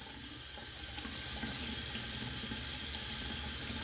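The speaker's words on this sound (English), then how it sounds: "Little cold water rinse." A bathroom tap runs steadily with cold water for a rinse after a shave, a continuous close splashing stream into the sink with no voices.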